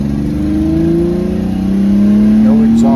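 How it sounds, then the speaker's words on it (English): A 1991 Toyota Winnebago Itasca Micro Spirit mini motorhome accelerates, its mid-pitched engine note rising steadily in the cab, then dipping and climbing again through a crisp gear change, loud and close throughout. "it sounds really good accelerating, shifts nice and crisp"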